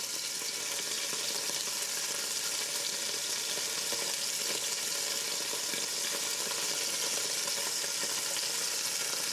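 Beef pieces browning in hot oil in a stew pot, giving a steady, dense sizzle that carries on evenly and fairly loudly with no breaks and no voices.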